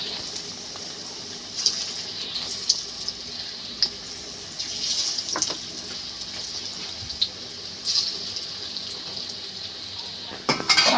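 Egg and onion fritters fry in hot oil with a steady, close hiss and scattered crackles and pops, as utensils clink now and then.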